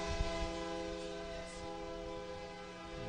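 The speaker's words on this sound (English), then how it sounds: "train number 2 is rattling the tracks and making noise" A train passes near a college baseball regional game, a steady low rumble with sustained horn-like tones held throughout, fairly loud and continuous with no talk.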